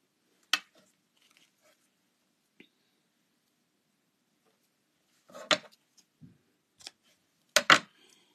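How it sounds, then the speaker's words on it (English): Scissors trim a length of ribbon for a folded paper craft card, a few faint, close snips with long quiet pauses between them, ending in a quick pair of cuts. "we'll just trim down the ribbon"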